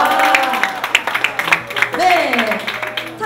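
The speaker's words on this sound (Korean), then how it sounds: "박수." A church youth service group claps during a quiz game, a short burst of scattered applause mixed with a voice talking over it and excited cheering.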